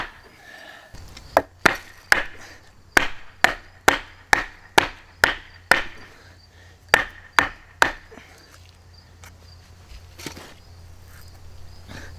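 A Kizer Little River Bowie knife strikes into thick wood logs, giving about fourteen sharp, close chopping thwacks in a fairly regular rhythm, with a brief pause midway, over a faint low background hum.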